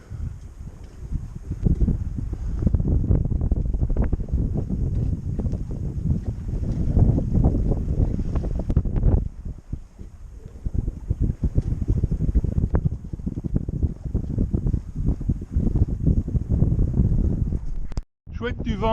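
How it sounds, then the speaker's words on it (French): Strong wind buffets the microphone aboard a sailboat arriving under sail at Saint-Jean-de-Luz, a loud continuous roar with gusts and water rush, briefly dropping mid-way and cutting out near the end. "Chouette du vent."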